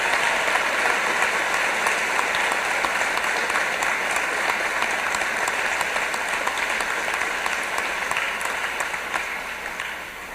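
Sustained applause from a ceremony audience, dense steady clapping from many hands that tapers slightly toward the end.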